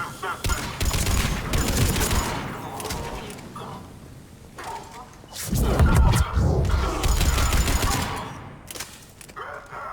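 Heavy automatic gunfire from a Mass Effect 3 firefight on Omega, loud sustained bursts with a pause in the middle before another intense volley, booming low impacts throughout.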